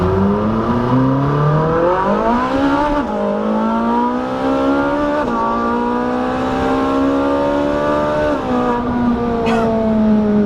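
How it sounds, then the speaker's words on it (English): A Lamborghini supercar with a double-clutch transmission pulls hard, its engine loud and close, climbing through the revs, dropping at each gear change, then winding up again in a series of long surging runs. "I feel there is a certain level of sound that this car displays"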